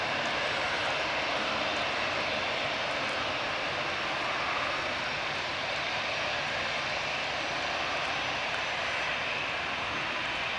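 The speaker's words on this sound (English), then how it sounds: "Engines are getting ready now, guys. Enjoy takeoff." The jet engines of a 13-year-old Eurowings Airbus A320 spool up for takeoff at Manchester Airport, giving a loud, steady, broadband roar and whine that holds for about ten seconds with no talking.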